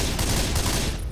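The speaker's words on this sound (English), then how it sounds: "We're all firing everything." Dense, continuous gunfire from several weapons at once in the zombie shooter Left 4 Dead 2, a loud unbroken barrage with no pauses across the whole burst.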